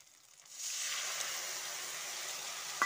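Soaked spice paste hits a hot pan of softened tomatoes for a vegetarian okra dish, starting a quiet, steady hiss that rises after about half a second and sizzles evenly until the end.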